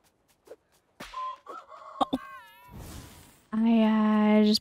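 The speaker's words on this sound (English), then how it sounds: "I just punched a chicken." Clucks and squawks from a chicken-like creature in the physics farming game Southfield come in short bursts with thumps, ending in a loud sustained squawk, close and prominent, with a voice speaking around them.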